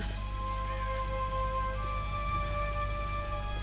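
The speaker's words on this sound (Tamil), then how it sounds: "மழை பெய்யுது, இடி இடிக்குது" Steady rain falling in a forest in Tomb Raider on PlayStation 5, a continuous hiss with sustained game music tones layered over it and no talking.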